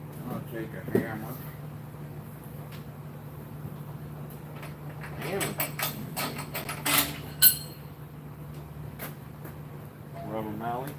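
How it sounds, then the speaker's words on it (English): A rubber mallet knocks on parts of a Detroit DD15 engine during a teardown in a workshop, a few dull thuds and clanks between stretches of talking over a steady low hum. "Rubber mallet."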